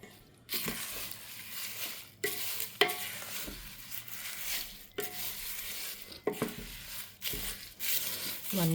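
Herbs being mixed into a large batch of three blended oils for homemade herbal hair oil, giving repeated scraping and stirring strokes with a few sharper knocks, fairly close.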